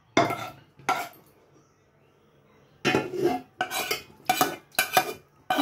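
Chicken gravy for biryani tipped into a pot, heard as several clattering scrapes and knocks of a spoon and utensils against metal, close, in separate bursts with quiet gaps between.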